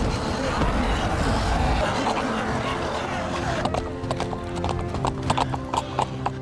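A horse's hooves clip-clop through a zombie-filled city in a film scene, first under a dense noisy rumble, then as crisp, distinct hoofbeats in an irregular trotting rhythm, close and fairly loud.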